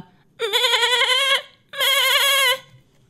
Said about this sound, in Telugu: మేకపిల్ల మరీ అరుస్తోంది